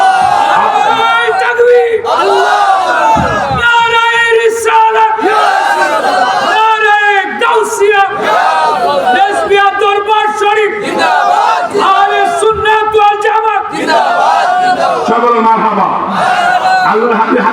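Large crowd loudly shouting a religious chant in unison at a Sunni Islamic gathering, voices rising together in repeated bursts with dense, continuous cheering throughout.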